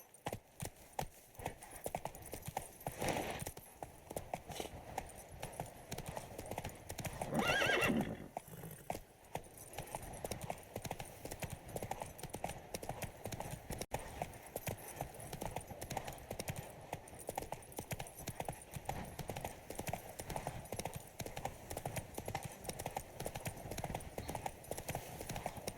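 Horse hooves clip-clop at a steady galloping rhythm in The Witcher 3: Blood and Wine, close and continuous, with a brief whinny partway through and a short spoken command near the start.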